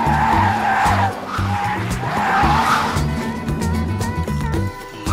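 A Lightning McQueen toy car plays its recorded tire-skid effect: loud, repeated squealing screeches with engine-like revving, close and continuous.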